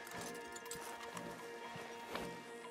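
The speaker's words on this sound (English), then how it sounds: "Marston, you're gonna tether him up to Javier's horse" Horse hooves clip-clop in Red Dead Redemption 2, a steady rhythm of several riding horses against a busy outdoor game background with music.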